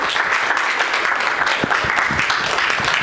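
A church congregation claps their hands for Jesus, a loud, dense, continuous burst of applause from many people close by, with no break.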